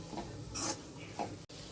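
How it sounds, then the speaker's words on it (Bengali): Chicken and chopped carrot stir-fry in a pan, a steady close sizzle with a couple of brief scraping strokes over less than two seconds. "দেখো গাজরটা হালকা ভাজা হয়ে গেছে"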